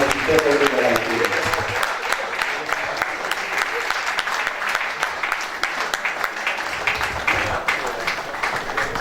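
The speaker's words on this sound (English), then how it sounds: "give her a round of applause" An audience applauding at an investiture ceremony, sustained loud clapping from a crowd that continues throughout, with a voice speaking over it.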